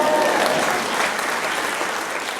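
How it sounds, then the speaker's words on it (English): Applause from a lecture audience at the Radcliffe Institute, Harvard: a dense, even wash of many hands clapping together, sustained throughout without any voice above it. "And here's where we applaud!"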